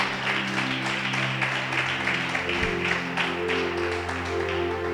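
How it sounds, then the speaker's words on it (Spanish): A church congregation claps for the Lord, continuous dense applause at a steady level over sustained music, with a low thump partway through. "Den un aplauso al Señor."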